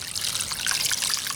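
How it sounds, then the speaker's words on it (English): Water pours into a soup pot of smoked ham bone soup, a steady bright splashing trickle heard up close and alone. "I'm going to put 6 cups of water."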